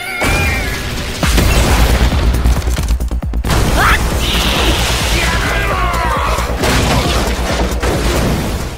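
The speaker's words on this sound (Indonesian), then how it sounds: "tiba-tiba ada ledakan muncul dan sumber air panasnya jebol" A cartoon explosion bursts open a hot spring with a loud, sustained boom and rumbling burst that fills the scene, followed by crackling debris and whooshing effects.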